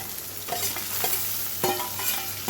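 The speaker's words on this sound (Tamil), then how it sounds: "தக்காளியை நல்லா வதக்கி விட்டுட்டு நல்லா இதாகணும்" Tomatoes sautéing in oil in a pan, a bright steady sizzle broken by repeated spatula stirs and scrapes, close and fairly loud with no voices.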